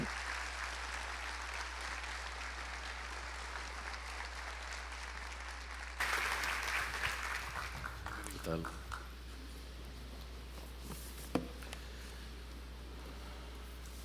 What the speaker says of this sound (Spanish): Recibámosles con un fuerte aplauso.